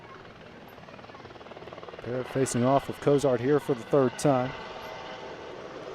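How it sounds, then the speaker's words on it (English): A helicopter lifting off beyond right field at a state tournament softball game gives a constant low droning rumble in the distance, beneath a sports announcer's play-by-play commentary. "That noise you're hearing is a helicopter just taken off beyond right field"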